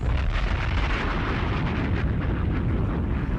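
A booming bomb-drop sound effect of the kind used in DJ drops, a dense, loud explosive rumble with a roaring wash that holds steady for several seconds.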